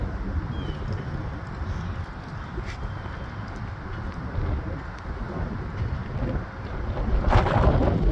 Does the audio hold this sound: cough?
no